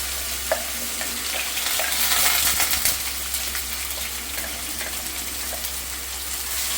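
Crushed ginger, green chili and garlic sizzle in hot coconut oil for a Kerala-style roast, giving a steady, loud crackling hiss with brief stirring scrapes and spits scattered through it.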